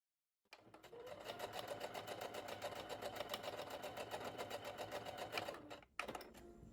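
A Singer SE9185 sewing machine stitches in a fast, even run of needle strokes lasting about five seconds, then pauses briefly and starts again, close and alone without talk.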